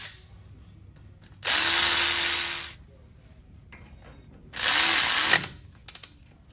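A power tool with a ratchet mechanism drives down 8 mm and 10 mm bolts on a Ford F150 hub assembly, making two loud, sustained bursts of whirring and clicking close by, then a few short final clicks.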